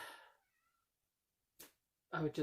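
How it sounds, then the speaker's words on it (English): A cat meows indoors: short, faint meows at the start and end, partly mixed with a person talking nearby. "there's a cat in here somewhere. Somebody's meowing at me."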